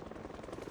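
A helicopter in a game set in a trailer park, its rotor throbbing in a fast steady pulse with a constant engine roar, loud and close for a brief moment.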